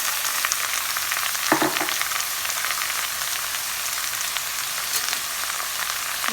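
Green chilli pieces, crushed garlic and bottle gourd pieces fry in a pan with a dense, even sizzle that runs nearby throughout, with one brief scrape partway through.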